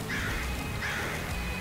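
Crows cawing in the video game Nuclear Throne, two rasping calls about a second apart, fairly close, over a dense, noisy game soundtrack.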